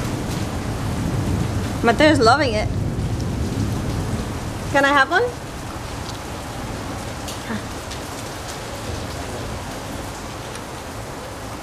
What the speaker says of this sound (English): It's one of those summer thunderstorms that I'm sure you guys know about.